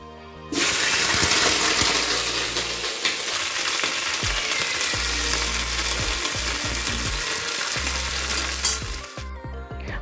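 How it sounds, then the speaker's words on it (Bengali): Cauliflower pieces fry in hot oil for khichuri, giving a loud, steady, close sizzle with crackling spatters and occasional stirring clatter, and no voices. "ফুলকপিটা খিচুড়িতে দেওয়া হবে যে ভেজে নেবো"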